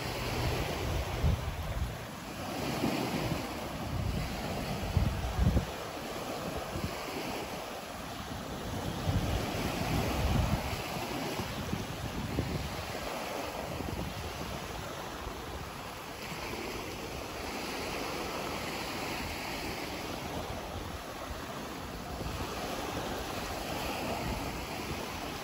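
Ocean waves wash steadily at Lighthouse Beach on Sanibel Island, a continuous roar of surf with gusting wind buffeting the microphone, no voices.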